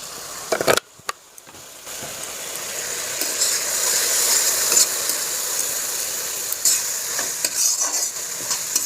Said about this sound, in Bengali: হলুদ আর লঙ্কার গুঁড়োটা দিয়ে কষে নিচ্ছি।